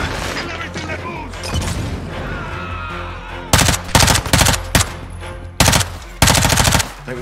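Automatic gunfire crackles during a Mexican prison break in Call of Duty: Modern Warfare 2, starting as a busy background firefight and then erupting into loud, close bursts of rapid machine-gun fire with short pauses between them.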